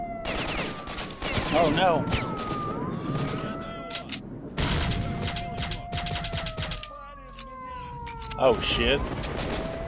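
Bursts of automatic gunfire and a heavy grenade blast in S.T.A.L.K.E.R. Shadow of Chernobyl, loud and chaotic with shots scattered across the scene, while a person exclaims over the action.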